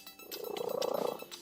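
A cat purring loudly and close, a steady rapid pulsing rumble lasting about a second.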